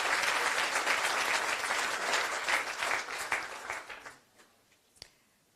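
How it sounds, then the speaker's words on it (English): An audience at a European Parliament launch event applauds, a dense, even clapping that holds for about four seconds and then dies away to a few scattered claps and a final sharp clap. "I think you can have a great clap for that"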